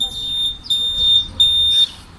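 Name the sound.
electronic alarm beeping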